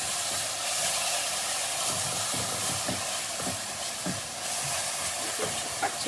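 Ginger garlic paste fries in a pan, giving a steady bright sizzling hiss with faint crackles and pops throughout, close and fairly quiet.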